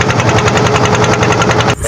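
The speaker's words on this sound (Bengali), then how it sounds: "আমি খালি ভাবতাছি এটা ট্রলার না হেলিকপ্টার, যে সাউন্ড" A trawler boat's engine runs loud and close on a river, a fast even knocking throb like a helicopter's chop, alone and steady until it cuts off just before the end.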